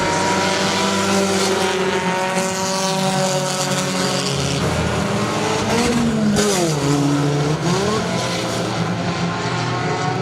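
Race cars roaring around the oval at Saratoga Speedway, a loud continuous engine drone with pitch rising and falling as cars pass, staying dense and close throughout without audible talk.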